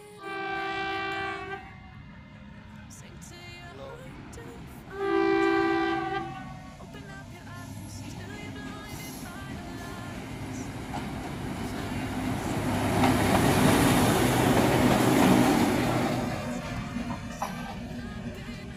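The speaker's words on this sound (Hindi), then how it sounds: "ये है हमारा मुल्तान का प्यारा सा बिजी रेलवे स्टेशन" Trains at Multan Cantt railway station in Pakistan, with two loud horn blasts early on followed by a rising rumble of a passing train and the clatter of wagons across the busy platforms.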